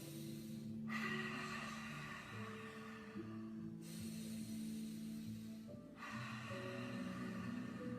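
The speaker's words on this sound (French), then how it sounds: "faites votre respiration pilate" Pilates breathing during an abdominal exercise: long, hissing exhales that swell and fade in repeated stretches over a steady, tonal background hum.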